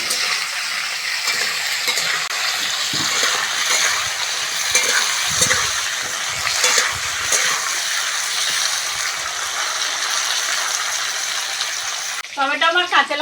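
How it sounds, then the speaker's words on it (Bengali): Flat beans and potatoes frying in oil with tempering spices, a loud continuous sizzle and crackle up close, with stirring scrapes and a brief burst of something else near the end. "সিম আর আলুটা ফোড়নের সঙ্গে ভালো করে ভেজে নেব"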